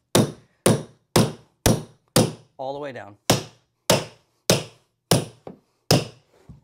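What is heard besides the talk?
hammer tapping a carpet tucker on a stair tread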